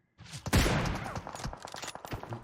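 A burst of rapid video-game gunfire from Kar and M4 rifles, several sharp overlapping shots cracking close and loud over about two seconds.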